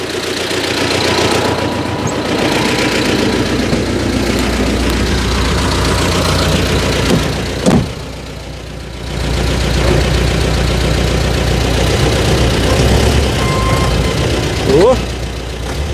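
Vehicle engine idling steadily after a cold start on a frosty farmyard morning at minus four, a loud continuous rumble with a brief dip midway and a clank near the end.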